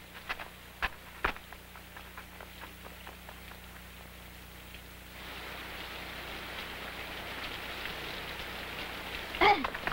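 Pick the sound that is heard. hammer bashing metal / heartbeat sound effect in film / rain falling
rain falling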